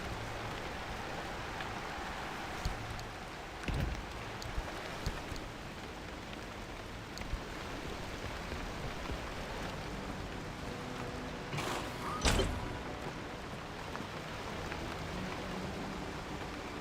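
Steady rain falls in the Pacific Drive video game, a dense even hiss with a couple of brief louder gusts or rattles, unbroken and with no one talking.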